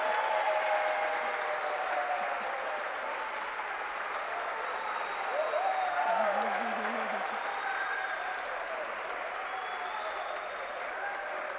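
Steady, continuous applause from an audience at a public debate on youth and adult education fills the room in honor of a teacher, a dense even clapping that holds throughout, with a faint voice beneath.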